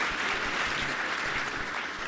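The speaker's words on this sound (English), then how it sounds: "give her a big round of applause" An audience at a school superintendent honors ceremony claps steadily, a dense even patter of many hands that holds at one level throughout.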